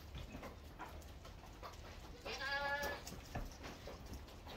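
A goat on a farm gives a single loud, wavering bleat close by, standing out above steady background noise and scattered small knocks.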